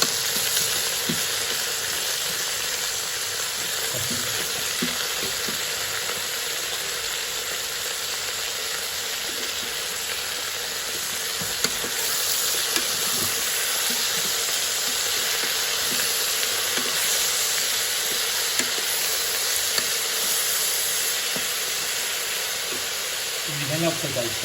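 Aloo palak pulao with coriander and mint being stirred in a pan on a Geek Robocook electric pressure cooker, a steady frying sizzle and hiss running throughout with faint scraping stirs and a little background voice.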